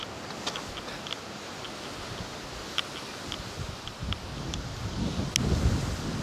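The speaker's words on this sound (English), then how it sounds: "Look how windy it is." Strong outdoor wind gusts and buffets steadily, with a broad rushing noise and scattered sharp rattles and knocks from loose objects, swelling louder toward the end.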